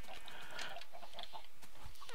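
Chickens in the Minecraft video game cluck in quick, repeated bursts, several birds overlapping in a busy farm pen, moderately loud and steady throughout.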